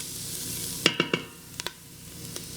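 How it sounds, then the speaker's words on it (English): Garlic gets stirred in a hot pan with a soft ongoing sizzle, several sharp scraping clacks of a utensil against the pan in quick succession, then a few lighter knocks. "Give that a good little stir."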